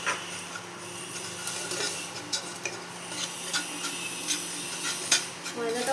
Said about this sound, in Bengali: ময়দাটা ভালো মতো ভেজে নেব এর সাথে